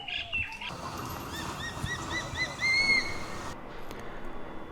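Morning birds call in the Gairal forest of Jim Corbett, with a rapid series of clear, repeated chirps up close over soft forest ambience and a few scattered calls around them.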